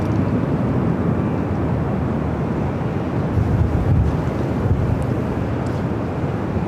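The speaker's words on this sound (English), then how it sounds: "Next arrival, Alaska Airlines flight 1143, coming up from Portland at" An Alaska Airlines 737-800 arriving at LAX from Portland makes a low, continuous rumble mixed with wind buffeting on the microphone, steady with slight surges and no talking.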